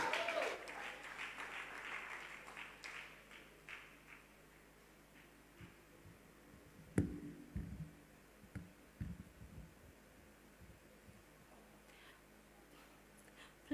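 An audience at the finals of a gospel singing competition welcomes a singer named Jennifer with applause that swells at the start and fades within a few seconds, leaving a quiet hall with scattered knocks and faint murmurs.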